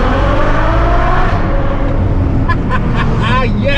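A Ferrari F12 engine roars loudly and steadily, rising in pitch as it revs, with a voice speaking briefly over the din near the end.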